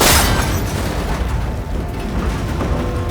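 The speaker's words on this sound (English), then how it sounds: "It should break if I shoot it." A loud impact burst in Horizon Forbidden West as an arrow strikes and breaks a cable connector, a sharp boom up front followed by sustained rumbling, crackling debris and mechanical noise with no voices.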